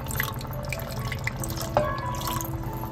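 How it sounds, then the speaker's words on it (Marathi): Water is poured into a thick masala base for a karli fish curry, giving a steady close trickle and light drips, with a small splash near the end and no talking. "याच्यामध्ये पाणी ऍड करून घेतो"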